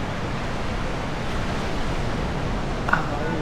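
Strong surf rolling onto a white-sand beach on Entalula Island, El Nido, a steady, loud broadband roar of waves close by, with no talking.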